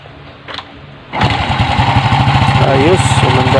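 A Honda XRM110 motorcycle engine cranks after a brief quiet moment, catches and settles into a steady, close, loud idle with an even throbbing rhythm.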